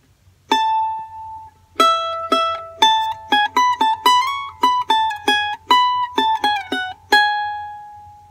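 A charango picks a melodic phrase from Alma Llanera, bright plucked notes with quick decays in an uneven rhythm, a few held longer, played alone and clearly up close.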